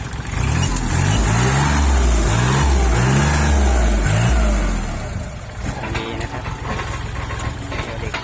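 A farm tractor with a newly replaced pair of front tyres starts up and runs, its engine loud and close with a throbbing, revving rhythm for several seconds before dropping back to a steadier idle.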